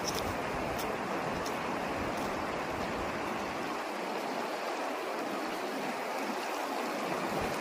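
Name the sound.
river stream flowing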